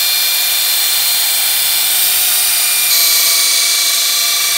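A cordless drill spins a finishing pad with polish against a car headlight, giving a loud, steady high-pitched whine close by that shifts slightly in pitch partway through, with no talking.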